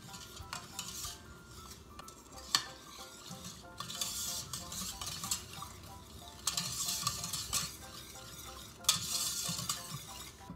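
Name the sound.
whisking helbeh dessert mixture in a bowl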